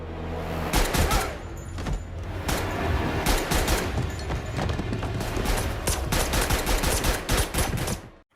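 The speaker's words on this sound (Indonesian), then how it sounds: "Mendengar suara tembakan, John pun langsung mengamuk." Rapid bursts of gunfire crackle loudly, volleys of sharp shots overlapping in dense clusters with brief pauses between, ending abruptly.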